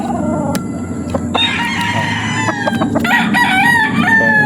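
A spangle gamefowl rooster, a full cock, crows loudly and close in a farm yard, with other birds crowing and clucking throughout against steady background noise.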